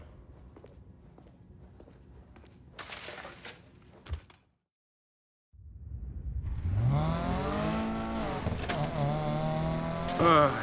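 A car in the racing game Need for Speed Payback starts up after a short silence, its engine rising and revving through gears, preceded by footsteps and door sounds.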